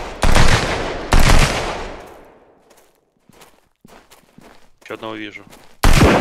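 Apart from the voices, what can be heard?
gunfire in the video game Sunkenland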